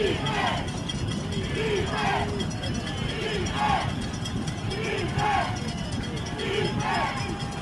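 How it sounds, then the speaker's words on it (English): Football crowd at a Parkview vs. West Forsyth high school game chanting "defense" in a steady repeating rhythm, a broad roar of many voices with periodic rising calls, heard from within the stands. "You hear the crowd chanting defense."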